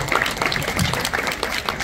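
An audience applauds students about to sing at a school event in Singapore, a dense patter of many hands clapping steadily throughout.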